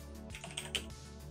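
Keys tapped on a computer keyboard while entering text into a terminal window, a short run of faint, close clicks of uneven rhythm with no talking.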